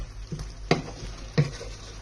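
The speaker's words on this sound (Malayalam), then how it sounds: "അതുകൂടി നന്നായിട്ടൊന്ന് ഇളക്കി മിക്സ് ചെയ്യുക" Chicken with tomatoes being stirred in a pan for a Malayalam chicken dish, a soft low sizzle under a few distinct scraping stir strokes, close and fairly quiet.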